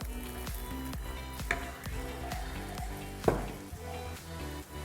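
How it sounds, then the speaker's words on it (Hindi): Browned onions frying in a pan with ginger-garlic paste and a small splash of water for soya chunks biryani, giving a steady close sizzle with occasional sharper spits and crackles. "इसमें जाएगा अदरक और लहसुन का पेस्ट ताकि प्याज जले ना। हल्का सा छोंक पानी का।"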